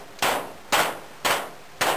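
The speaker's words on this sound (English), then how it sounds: "All you got to do is just beat on it with a hammer." A hammer beats on the body of a pickup truck: four sharp, loud metallic strikes spaced roughly half a second apart, each ringing briefly before the next, with no voices.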